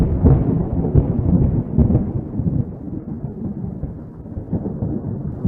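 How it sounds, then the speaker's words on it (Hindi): Deep thunder rolls and rumbles through a raging storm, a loud, continuous low growl with swelling bursts and no voices. "तूफान और भयानक हो चुका था।"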